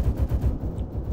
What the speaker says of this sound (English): I need to get this gun on target. Fire.